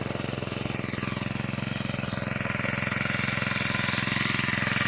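A four-stroke grass trimmer engine runs steadily nearby with an even, rapid chugging hum and a faint higher whine on top, continuous and moderately loud, with no talking.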